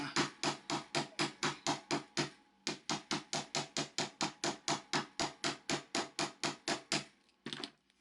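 Sharp, regular hammer blows on a metal loop of a handmade pendant, about twenty-five close, loud taps in a steady rhythm with a brief pause midway and a final few strikes, no talking.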